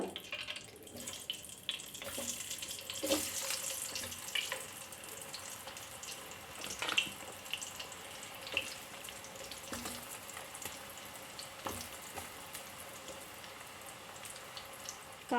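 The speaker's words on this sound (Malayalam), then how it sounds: "എണ്ണ നന്നായിട്ട് ചൂടായിട്ടുണ്ട് ഇനി നമുക്ക് കായ ഇട്ട് കൊടുക്കാം" Plantain slices hit hot coconut oil and fry on a high flame for sharkara varatti, a steady close bubbling hiss with scattered pops and crackles running throughout, no one talking.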